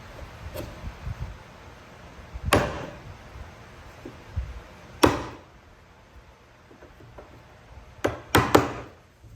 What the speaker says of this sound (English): A few taps with a chisel will take care of that.